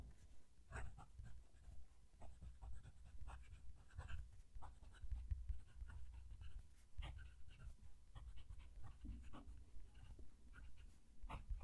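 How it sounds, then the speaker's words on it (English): A Jinhao 100 Centennial fountain pen nib writes on paper close to the microphone. Faint scratchy strokes come in an irregular rhythm over a low background rumble. "I'll move the mic down to the page so you can hear the pen write."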